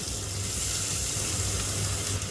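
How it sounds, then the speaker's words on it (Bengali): Chopped onion from two large onions hits hot oil in a pan for a sweet pumpkin ghonto, giving a steady, loud, even sizzle that hisses continuously without a break. "এখন আমি দেবো পেঁয়াজ কুচি, এত দেবো না, অর্ধেকটা দেবো।"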